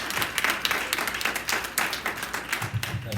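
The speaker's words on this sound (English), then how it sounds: "Please give her another round of applause." An audience at a business huddle claps together in steady applause, a dense patter of many hands with a voice coming in near the end.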